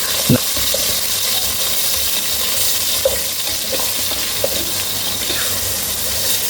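Potato pieces fry in oil for a spicy chicken and potato pulao, sizzling steadily at close range while a spoon stirs them with occasional soft scrapes and knocks.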